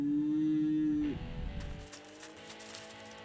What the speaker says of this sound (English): cows all over everything, on my high noon, at the feeder